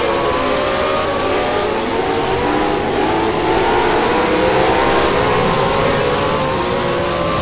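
Late model race cars roar steadily around a short oval track, engines droning loud and continuous with pitch shifting as cars pass one another close together, with no break in the noise.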